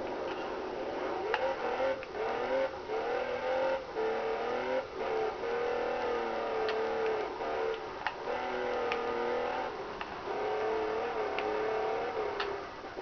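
Game car in Test Drive Unlimited on the PS2 driving a rally stretch, its engine a steady droning whine that rises and falls in pitch over sharp ticking clicks, loud and continuous with no talk.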